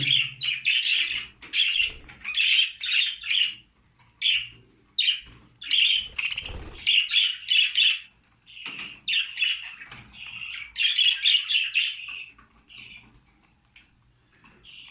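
Pet budgerigars chirp and tweet in busy bursts nearby, with soft pecking and rustling between the calls.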